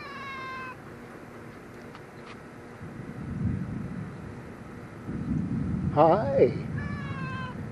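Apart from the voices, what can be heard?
cat meowing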